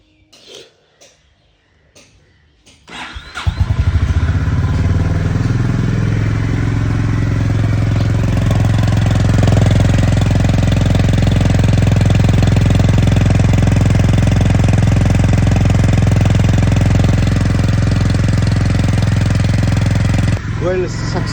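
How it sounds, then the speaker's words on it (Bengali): After a few soft knocks and fumbles, a motorcycle left unused for three or four days fires on the first try on a drizzly winter day, then settles into a loud, steady, close idle that runs without a break. "তো দেখা যাক এবার এই বাইক একবারে স্টার্ট নেয় কিনা"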